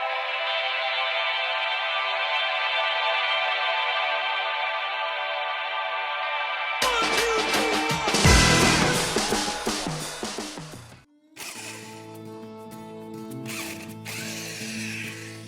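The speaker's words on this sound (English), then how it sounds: "trying to get these bolts off." Rusty bolts on a Jeep CJ5 are worked loose with a ratchet and tools amid a garage teardown, with a steady mechanical whir giving way to loud, noisy clattering, grinding bursts and a rattling, ringing metallic stretch.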